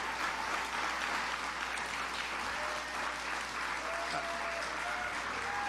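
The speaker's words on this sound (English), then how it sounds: "Big round of applause." Applause from an audience at an event hosting Ireland's Taoiseach, heard through a played recording: a steady, moderately faint wash of clapping that holds evenly throughout, with a low hum beneath.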